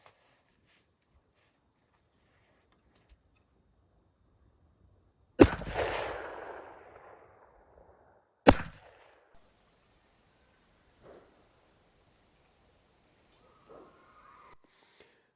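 Two sharp, muffled shots from a suppressed .223 Rem rifle sound far away, several seconds apart, each with a brief rumbling echo. Long quiet gaps surround them.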